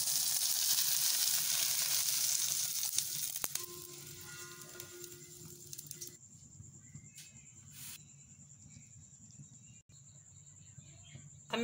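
Okra sizzles loudly in a pan over a medium-high flame, a dense close hiss that fades after a few seconds into quieter background with scattered clicks and a thin high tone.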